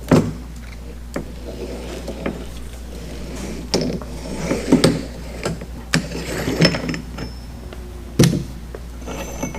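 Valve retaining ring being spun out with a pinned retaining tool during service of a TFT BIV fire nozzle: a series of sharp metallic clicks and ratchety scrapes, close and fairly loud, irregularly spaced over a steady low hum.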